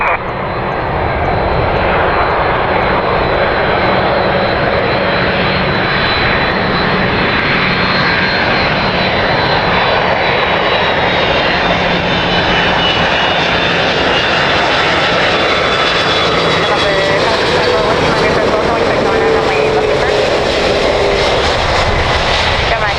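Heavy jet airliners roar continuously while landing and taking off at Miami International Airport, a loud, steady engine rumble that slowly shifts in pitch, with faint radio chatter underneath.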